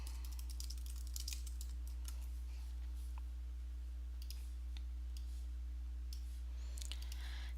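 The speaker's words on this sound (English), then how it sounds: "So remember, we just click" Keystrokes on a computer keyboard in irregular bursts of light clicks, quiet and close, over a steady low electrical hum.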